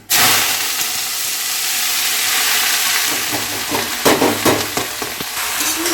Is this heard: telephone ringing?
no